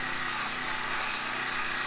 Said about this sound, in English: That's the old soft cut saw. It's a Husqvarna now.